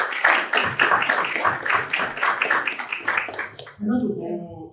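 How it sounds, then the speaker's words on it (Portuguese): Audience applause at a formal civic gathering, dense rapid clapping for about four seconds that stops abruptly, after which a voice begins speaking. "uma salva de palmas"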